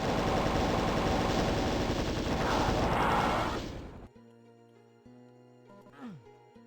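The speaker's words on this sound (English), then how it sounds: "Let's get the plasma gun out." A plasma gun fires in a Doom map, a loud, dense rapid stream of energy bursts lasting about four seconds, then cutting off abruptly to quiet game ambience with a brief descending sound effect near the end.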